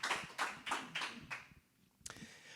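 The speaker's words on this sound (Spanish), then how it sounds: "¿Alguien le puede dar un aplauso fuerte al Señor?" A church congregation claps for the Lord in several loud, sharp bursts of applause, then a short lull and one final clap burst.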